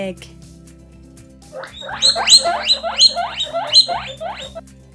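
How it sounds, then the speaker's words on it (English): A pet guinea pig gives a rapid run of loud, pulsing squeaks and chatters, close and insistent, starting after a brief quiet lead-in. "Guinea pig."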